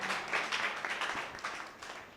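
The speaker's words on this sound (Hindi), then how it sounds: "जोरदार तालियां" Congregation clapping at a church sermon, a dense, fairly soft burst of applause that fades slightly over about two seconds.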